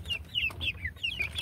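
Young pullet hens cluck close by in a quick, uneven run of short chirpy calls, several within a second and a half, over faint low background noise.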